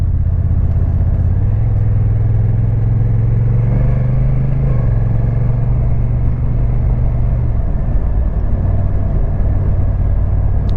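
A Honda NT1100 motorcycle engine drones steadily while riding on quiet country roads, a low continuous rumble with a brief rise in pitch partway through, loud and close with wind noise over the full length.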